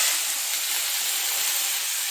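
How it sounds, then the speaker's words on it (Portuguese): Cooked noodles toast in sesame oil in a hot pan, giving a loud, continuous hiss and sizzle with no voices. "jogo um pouquinho de óleo de gergelim. E aí eu jogo o macarrão e dou uma rápida tostada nele"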